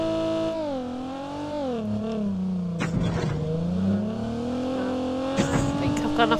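A car engine in COD Mobile hums and revs with its pitch rising and falling as the player drives, steady and close, with brief tire and impact noises and a voice talking over it.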